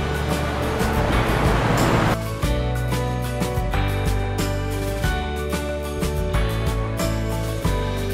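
Inside a Florida rug-cleaning plant, an automatic bathtub churns a rug in detergent-laced water, giving a loud, continuous rush and slosh over a humming machine drone.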